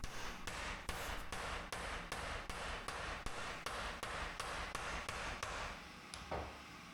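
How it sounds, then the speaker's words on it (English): Steady, rhythmic hammer blows drive a template into casting sand for brass casting, landing roughly twice a second on the dull, packed surface, close by and fairly loud, before stopping near the end. "And then I just simply hammer the template in."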